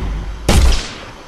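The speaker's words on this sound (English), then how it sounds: "you'll notice the very loud steam and the very loud gunshot" A single sharp, loud gunshot blast from an Unreal Engine 4 physics demo erupts after a short lull, followed by a hissing burst of steam that fades over about half a second.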